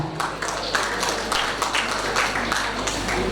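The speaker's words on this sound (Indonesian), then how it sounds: "Kita juga beri satu tepuk tangan untuk seluruh komite kita." An audience claps for the event committee at a ceremony, a steady wash of applause with individual claps standing out, moderately loud throughout.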